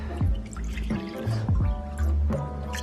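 Water from a Brita filter pitcher pours into the pan of a Breville BBM800XL bread maker in a few short, gurgling splashes. The pours are close, with no talking.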